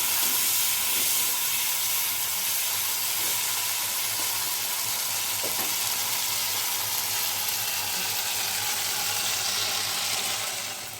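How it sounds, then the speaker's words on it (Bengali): Okra coated in turmeric and salt fries in hot oil, a loud, dense, unbroken sizzle and hiss up close that holds steady throughout with no speech. "ভেন্ডিগুলোকে ভালো করে ভেজে তুলে নেব।"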